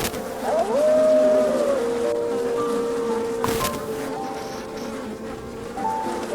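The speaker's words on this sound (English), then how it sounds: "a massive swarm bursts out of the trash" A massive swarm of bees bursts out of a trash pile around a wolf, giving a continuous insect drone with a rising tonal whine near the start and an otherwise steady hum.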